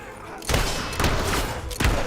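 Mortar blast in the video game Fable III, several loud broadband explosive bursts about a second apart over a continuous noisy game background.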